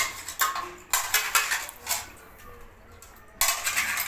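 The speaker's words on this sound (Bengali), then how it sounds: "চামচ দিয়ে খাইতেছে" A spoon clinks and scrapes repeatedly against a plate as a small child eats rice, in close, irregular clusters of bright metallic taps with a short quieter pause midway.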